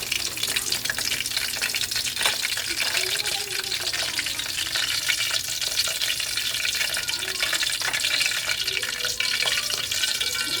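Chicken frying in hot oil, a steady dense sizzle and crackle running throughout at moderate level, with faint clatter and splashing of water in the background.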